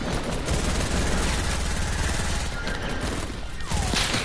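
Dense, continuous video-game gunfire from a shooter played on a livestream: loud rapid bursts and volleys overlap with no break, with faint voices underneath.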